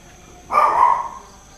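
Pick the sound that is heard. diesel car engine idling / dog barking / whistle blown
dog barking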